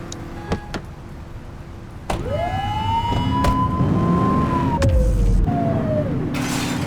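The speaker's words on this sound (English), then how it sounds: "Get on their tail and flip the siren." A police car siren in the video game The Precinct starts after a couple of sharp clicks and rises into a loud, close wail that sweeps down and repeats, with engine rumble underneath.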